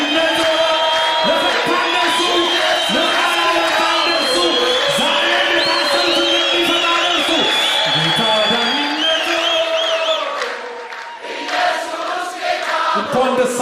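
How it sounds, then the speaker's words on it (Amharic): A church congregation claps and cheers loudly, with sustained whoops and shouting voices that fade briefly near the end before rising again. "ለወንጌል ጭብጨባ"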